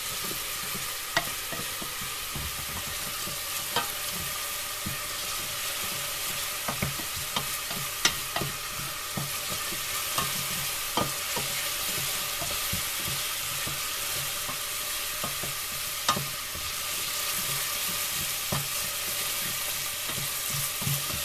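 Onions frying in oil with salt and pepper in a pan, a steady close sizzle with scattered crackles and occasional clicks of stirring, no voices.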